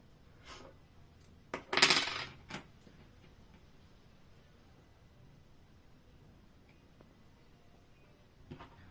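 Metal washers and coins clink as they are stacked into a homemade voltaic pile, giving one bright jangling burst and a couple of smaller taps, then near-silence with a faint final click and no talking.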